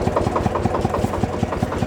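A tractor engine idles alone in a wet field in early spring, its low, even chugging pulsing in a steady rhythm close to the listener.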